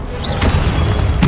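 Confringo blasts from a wand duel in Hogwarts Legacy: two sharp, broadband explosive bursts a little under a second apart, loud over a constant rumbling game-music and effects bed.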